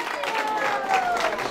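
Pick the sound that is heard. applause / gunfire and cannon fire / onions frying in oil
applause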